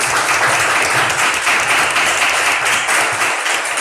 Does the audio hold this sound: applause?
yes